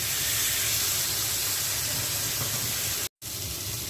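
Surmai fish steadily sizzling in a little hot oil after being turned in the pan, a constant close hiss with a momentary dropout near the end.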